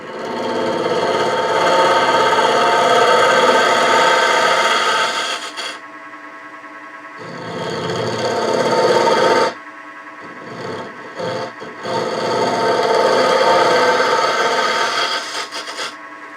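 A steady, loud rasping hiss of a hand tool cutting into wood spinning on a lathe at about 1,000–1,100 rpm, running in long stretches broken by short pauses and brief scraping touches.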